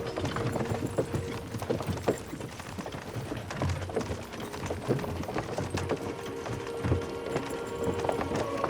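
Horse hooves clip-clop steadily on a road in Kingdom Come: Deliverance II, several horses at an unhurried walking pace, close and continuous, with faint rattling tack and cart-like mechanical clatter mixed in.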